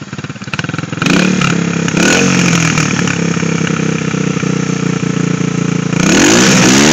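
A dirt bike engine runs with no exhaust fitted and its bodywork removed, loud and close: a rough idle, then sharp throttle blips and sustained revving, with another rising rev near the end.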